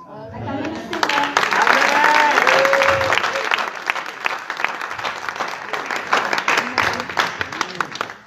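A church youth congregation applauds steadily, a dense near clapping that swells and carries on throughout, with voices and cheers mixed into the clapping.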